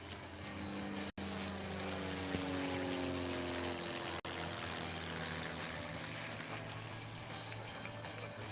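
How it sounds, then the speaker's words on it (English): An MV-22B Osprey tiltrotor aircraft flying at an airshow at McMinnville Airport, Oregon, gives off a loud, steady droning engine and rotor roar with shifting tonal hums that holds throughout. "make some noise for the MV-22B Osprey."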